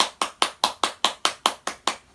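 At the close of a Friday revival service, a church congregation claps in praise. About nine sharp claps fall in a crisp, steady, evenly spaced rhythm, close and distinct, with no talking.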